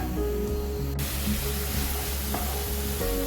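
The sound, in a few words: ground tomato paste sautéing in pan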